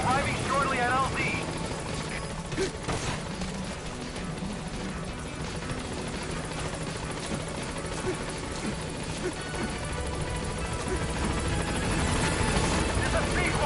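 Pequod helicopter from Metal Gear Solid V approaching a landing zone: a steady rotor and engine roar with a thumping chop, continuous and fairly loud throughout.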